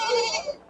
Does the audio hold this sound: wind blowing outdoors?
no